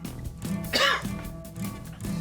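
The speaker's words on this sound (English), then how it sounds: "Just gonna have to leave that cough in there." A single harsh cough close to the microphone, a short throaty burst standing out over quiet room background.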